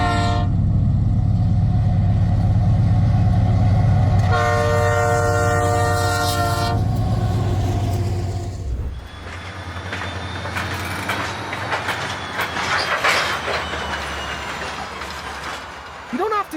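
A double-stacked container freight train roars past loudly, its multi-chime horn sounding twice in long blasts before the rumble fades into a lighter rolling clatter of cars.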